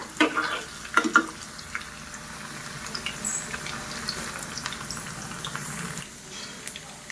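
Food frying in a pan while being stirred continuously, a steady close sizzle with a few louder scraping knocks early on and soft scraping throughout.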